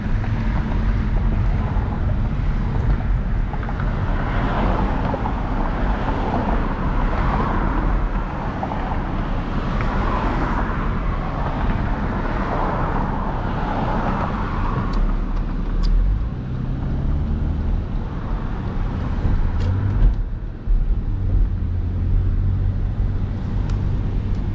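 A Hyundai Genesis Coupe 3.8 engine with no exhaust drones steadily under wind buffeting, its pitch dropping and shifting partway through as it downshifts, with a thump near the end.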